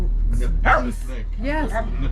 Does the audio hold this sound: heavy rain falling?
no